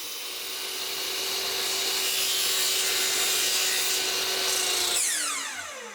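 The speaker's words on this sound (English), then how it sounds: "I'm clipping off the corners on those rails" A power tool cuts through the corners of wooden rails in a single sustained pass with a steady high whine that drops sharply as the cut ends, with no talking.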